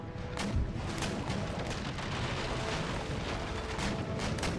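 Naval cannon fire in Empire Total War during a recreation of the Battle of Copenhagen, with dense, continuous booming volleys and crackling shots layered over a rumbling battle din, loud and sustained with no clear pauses.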